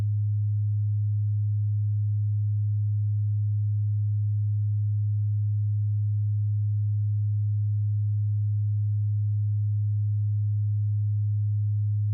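A processor-driven oscillator holds a pure, steady sine tone at a single low pitch, unbroken and even in level throughout, with nothing else heard.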